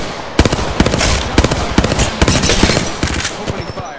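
Rapid automatic gunfire from a first-person shooter battle royale match, loud sharp bursts of shots in quick rhythmic succession throughout, close and dominant.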